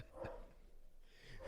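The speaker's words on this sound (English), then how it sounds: "Try to get them to stop. Try to stop barking." Several dogs bark in the background, a couple of short, muffled bursts at the start and end over a steady low room noise, fairly distant and faint.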